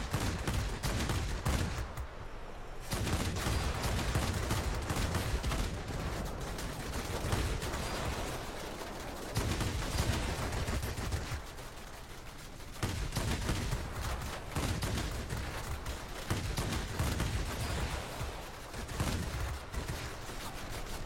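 In a flight combat video game, aircraft cannons fire in loud, rapid bursts, dense rattling volleys broken by a few short pauses, continuing across the whole stretch.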